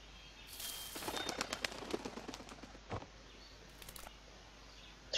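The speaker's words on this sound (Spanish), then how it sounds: "Otro pájaro." Bird calling inside the video game A Bird Story, a quick run of sharp chirps and flutters clustered in the first two seconds, then a few isolated calls, fairly close with no talk over it.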